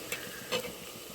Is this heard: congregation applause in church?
no